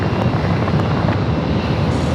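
Coast Guard helicopter near San Diego airport, a steady, loud low rotor and engine drone that holds without a break throughout.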